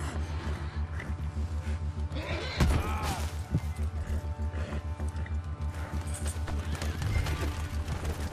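Horse hooves clip-clop steadily in Red Dead Redemption 2, a continuous rhythmic trot running under in-game music and effects, with a louder thump or kick around the middle.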